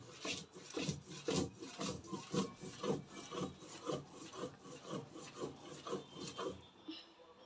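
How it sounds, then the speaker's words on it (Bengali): Lotia dried fish being ground by hand with chillies on a grinding stone for a bharta: rhythmic scraping strokes, roughly two per second, close and fairly quiet, continuing steadily then stopping. "শুটকিটাকে ভালো করে বেটে নেওয়া হচ্ছে"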